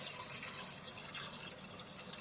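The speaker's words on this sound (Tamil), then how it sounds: "இந்த கொண்டக்கடலை வேகிறதுக்கு தேவையான தண்ணி விட்டுலாம்" Water is poured into a pressure cooker holding 200 grams of soaked chickpeas, a faint, continuous trickling and splashing of liquid filling the pot, close by and without talk.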